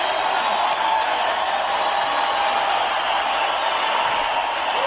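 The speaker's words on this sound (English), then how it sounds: "5-minute applause track." An applause track recording playing, a steady unbroken wash of crowd clapping and cheering at an even level throughout, somewhat distant and with no voices on top.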